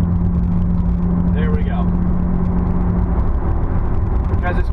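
Steady low engine drone and road noise from inside a Nissan 370Z cruising, continuous and close, with someone speaking briefly over it.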